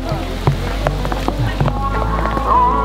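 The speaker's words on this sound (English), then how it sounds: "it's begun to rain" Rain patters on a surface with irregular drops at a volcanic sulfur lake, Kawah Putih in Bandung, mixed with footsteps and rustling movement close by.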